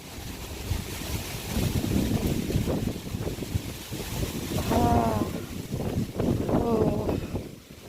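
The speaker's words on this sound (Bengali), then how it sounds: "প্রচণ্ড জোরে হাওয়া আসছে" Strong wind gusts through an open window during a power cut on a stormy night, a continuous roaring rush that swells and ebbs, with faint voices briefly audible beneath it.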